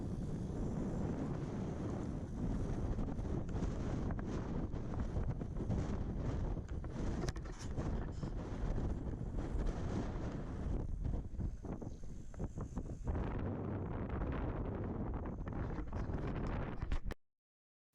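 Strong, constant wind buffets the microphone on a windswept bird reserve island, a dense, loud roar that rumbles and gusts without pause before cutting off abruptly.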